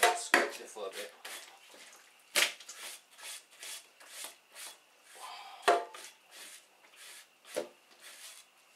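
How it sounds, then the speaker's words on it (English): Roast Chinese crispy pork belly skin is scraped and scratched with a utensil in short, dry rasping strokes, close and fairly quiet, repeating in an irregular rhythm with pauses between. "Just scoop the skin and scratch it for a bit."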